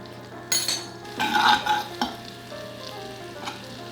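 A butter and flour roux sizzles in a pan while being stirred, with a steady frying hiss under intermittent scrapes and clinks of the utensil against the pan.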